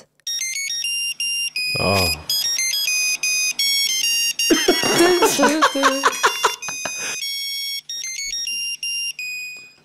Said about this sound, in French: voici la sonnerie qu'il y avait sur ce Nokia 3310.